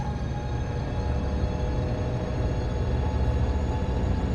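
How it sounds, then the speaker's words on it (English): Train Sim World 4 locomotive on the Antelope Valley Line accelerating, with electric traction motors and a diesel engine powering up: a steady, loud, dense low rumble and drone holding throughout without any break, no voices present. "You can hear the propulsion, you know, the actual electric traction motors, and you can hear the diesel engine powering up."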